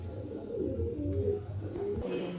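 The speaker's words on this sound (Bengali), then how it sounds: "এই দুটো আমার মেন বিডার পায়রা।" Pigeons of a breeder's loft, Chandrakani and Rampuri breeds, give soft low throaty coos close by, a few rolling calls in sequence.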